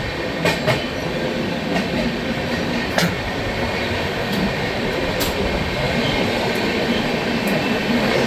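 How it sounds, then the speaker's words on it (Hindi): Rajdhani Express passenger train running at speed while overtaking the Howrah Mumbai Mail on the Central Railway route to Mumbai, a steady loud rumbling roar with occasional sharp clicks from the rails, no voices. "Siya Rajdhani express overtaking Howrah Mumbai mail."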